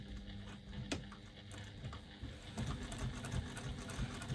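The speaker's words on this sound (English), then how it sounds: "you're going to stitch that seam across all of those layers using a 1/4 inch seam allowance" A sewing machine with a size 16 universal needle runs slowly while stitching a quarter-inch seam through several thick fabric layers. The soft, steady mechanical patter is quiet and close, with no talking.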